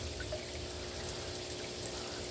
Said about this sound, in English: it shoots water down.